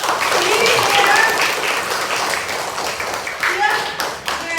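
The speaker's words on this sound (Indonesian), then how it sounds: "Tepuk tangan dong." A group of children claps together in a loud, lively burst of applause, with some voices mixed in.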